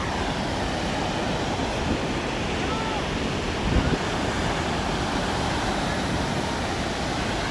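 Wind and surf on a beach roar as a dense, continuous wash, loud and close with gusting microphone buffeting, a faint voice briefly heard beneath it.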